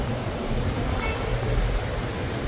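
A metro train arriving at a Makkah station gives a steady, loud low rumble of rolling wheels with a faint high squeal, continuous throughout.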